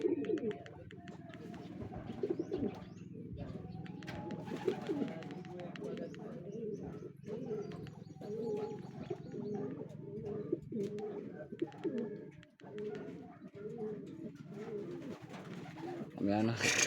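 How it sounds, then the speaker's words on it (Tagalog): Racing pigeons coo repeatedly at the loft after a training race, rhythmic soft throaty calls close by, with people talking over them throughout. "Dito na nga yung ating mga ibon ang galing sa minuli."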